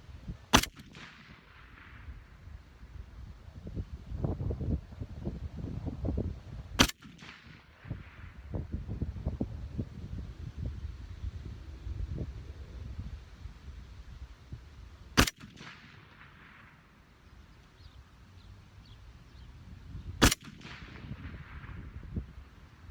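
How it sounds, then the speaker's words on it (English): An FN SCAR 17S rifle fires Federal Gold Medal Match 168-grain rounds outdoors, giving four sharp, loud, widely spaced cracks. Each crack is followed by a rolling echo and background rustle. "we're gonna do 5 more shots with the same Federal Premium Gold Medal Match 168 grain"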